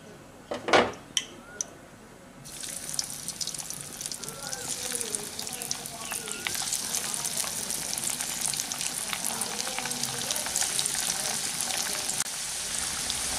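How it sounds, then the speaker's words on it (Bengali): Potato pieces slip one by one into hot refined oil in a wok, setting off a loud, steady frying hiss after a few sharp clinks of utensils, continuing close and unbroken. "তেলটা আমাদের খুব ভালো গরম হয়ে গেছে। তো এখন এর মধ্যে একটা একটা করে এই আলুগুলোকে ছেড়ে দিলাম।"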